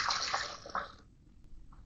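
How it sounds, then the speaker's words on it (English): Vinegar poured into a small four-cup Mr Coffee coffee maker, a short close splashing pour that stops abruptly, followed by a faint click and a brief drip. "So I'm going to put a little bit of vinegar in here."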